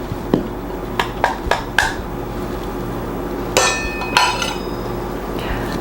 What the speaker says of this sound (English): in a separate bowl, I'm mixing the remaining ingredients